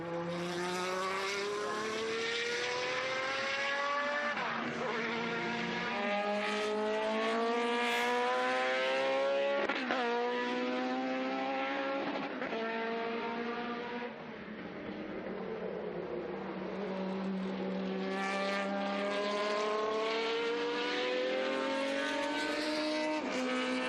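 Jaguar V12 engine of a historic race car at the Estoril Classics circuit, a loud, sustained wail rising and falling through repeated gear changes as the car accelerates, with no talk over it.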